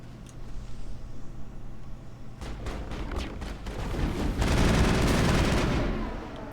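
Gunfire rattles through a battle in the video game Mass Effect, with a few scattered shots giving way to dense, sustained bursts that build and stay loud to the end, with no voices.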